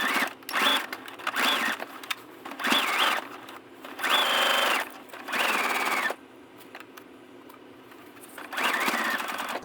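A sewing machine stitches the rod pocket of an RV travel trailer curtain, its motor whirring in several close bursts of steady running separated by short pauses.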